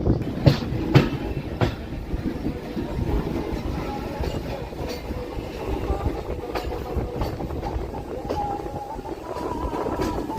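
Humsafar Express train running on the tracks near Simhachalam North station, a steady onboard rumble with rhythmic clickety-clack of wheels over rail joints and sharp clacks throughout.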